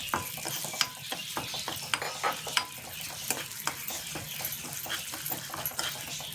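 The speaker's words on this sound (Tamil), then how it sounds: "அடுத்து பாசிப்பருப்பை இதே நெய்லேயே சேர்த்து வறுத்துக்கலாம்." Moong dal frying in ghee while being stirred for wheat rava laapsi, a steady crackling sizzle with frequent scraping ticks of the spoon against the pan, close and moderately quiet.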